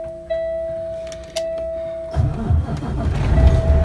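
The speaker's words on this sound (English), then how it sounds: "I'm gonna start the engine." Truck engine starting for an air brake test: a few clicks and warning chimes from the cab, then the engine cranks and catches into a rising, rumbling idle close by.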